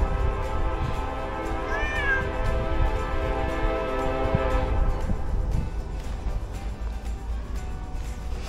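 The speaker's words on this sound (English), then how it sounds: "Hear the train." A train rumbles past with a low, continuous roar, a brief horn-like tone rising early on, then the clatter fading and thinning toward the end.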